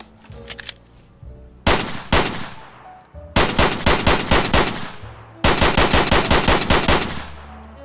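A Beretta M9A3 pistol fires in the shooter game Escape From Tarkov: a couple of sharp, loud single shots, then two fast runs of rapid cracks, each ending in a short tail of echo.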